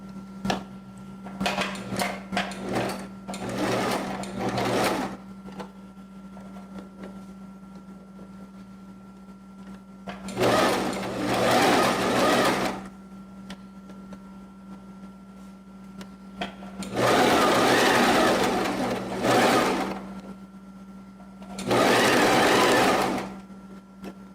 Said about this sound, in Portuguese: Eu quero costurar aqui, ó.